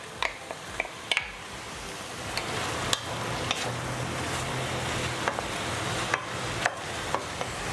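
Fish fillets fry in a pan with a steady low sizzle, broken by scattered clicks and taps from stirring or turning, close up and with no talk.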